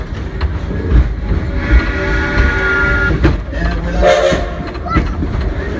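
Coal-fired Edison steam locomotive train running at night, a loud, rumbling rail roar with clanking and tonal whistle-like tones, heard close. Someone speaks briefly over it.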